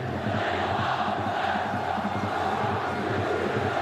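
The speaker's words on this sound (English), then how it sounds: "the crowd have found their voice again" A football stadium crowd at a World Cup qualifier between Jordan and Uruguay roars and chants in a continuous, dense wall of sound, loud and sustained throughout.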